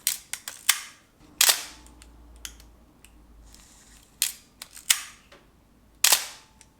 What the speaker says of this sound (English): If you can't dry fire the camera like that, it means there's no batteries in the camera.